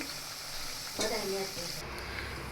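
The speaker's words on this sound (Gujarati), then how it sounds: "એકદમ ગોલ્ડન બ્રાઉન થાય ત્યાં સુધી આપણે તેને તળાવવા દેશું" Green garlic and green onion bhajiya fritters frying in hot oil, a steady close sizzle that swells briefly with a louder crackling burst midway, then settles back to a softer hiss.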